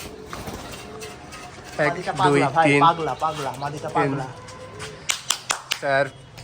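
Giribaz pigeons in a loft coo in low throaty bursts, building into a cluster of repeated rolling calls, then a few sharper short coos near the end, with someone talking faintly underneath.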